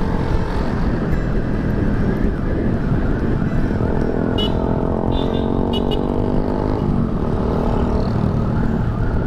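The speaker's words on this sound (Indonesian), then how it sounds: "Gila, suara motor si Andre kenceng kali." A loud motorcycle engine roars steadily and close throughout, mixed with heavy traffic noise in a jammed street, as riders push through congestion.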